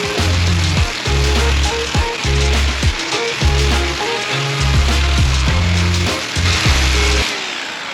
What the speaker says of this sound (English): And now I'm just gonna do a light sand